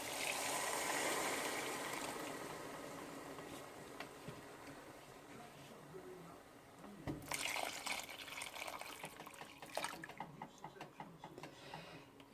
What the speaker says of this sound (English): So I'm going to add my chicken stock.